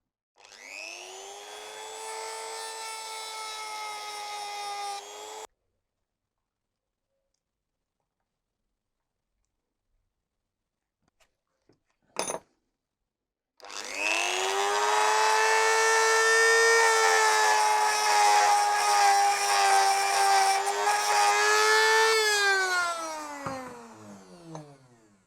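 A rotary tool fitted with a small burr cuts through a link of a BMW timing chain: a loud, steady high whine for about five seconds, a brief click, then a longer grinding run whose pitch sags as it winds down.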